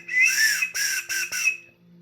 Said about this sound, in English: I also have a whistle. It's a pretty decent little whistle.